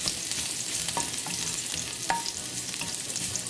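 Crushed garlic fries in a pan with a loud, dense sizzle and crackle, broken by several sharp spatula scrapes and stirring taps, close up with no speech.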